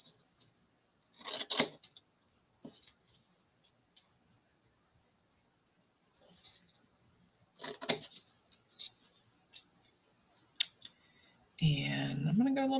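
Scissors snip paper for a scrapbook in a few short, crisp clicks spaced seconds apart within a quiet room, and a voice starts speaking near the end.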